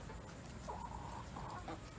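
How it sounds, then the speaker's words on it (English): Backyard chickens pecking at watermelon give a few soft, faint clucks that sit low against quiet background noise. "So I'm going to take this out and give it to my chickens and let them have it."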